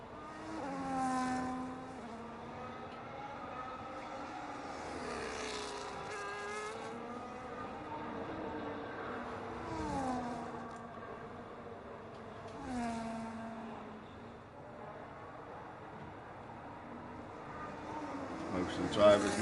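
Race cars driving out onto the track at Belgium, engines whining and rising and falling as they pass at a distance, under steady commentary.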